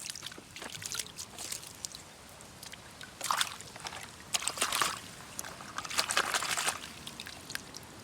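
Water poured into a toy tanker truck, giving faint intermittent trickling and sloshing bursts close by against a quiet background, with no talking.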